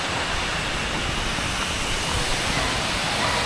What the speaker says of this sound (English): walking across a bridge with some waterfalls in the background